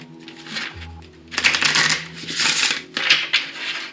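A heavy deck of cards being shuffled in a few quick riffling bursts, close and crisp, with a short low thud before the first riffle.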